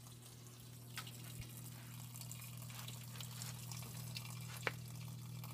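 Seawater siphoning from a saltwater aquarium into a wet/dry sump filter tank, a low steady hum with faint trickling and a few soft drips, close and quiet.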